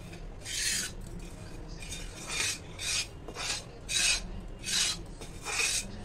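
Wheat flour panjiri roasts in a pan while a spoon scrapes and stirs it. About eight rhythmic, raspy strokes sound close and clear against a low background, with no one talking.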